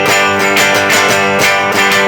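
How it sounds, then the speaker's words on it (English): An electric guitar strums chords stiffly from the elbow with the wrist locked, giving loud, even, mechanical strokes in a steady rhythm that cut off abruptly at the end. "if I strummed chords using just my elbow and I held my wrist tight,"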